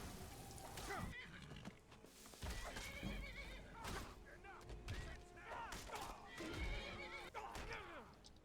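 Horse in the video game Skyrim whinnies and neighs several times amid game combat noise, with hoof clatter and bursts of action sound throughout.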